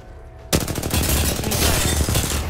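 Rapid automatic gunfire from an Apex Legends match erupts abruptly after a short quiet lead-in, a dense, loud, sustained burst of overlapping shots with no talk.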